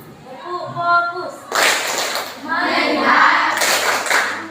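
A classroom of standing children claps a short patterned rhythm in unison, bursts of sharp group clapping mixed with children's voices calling along.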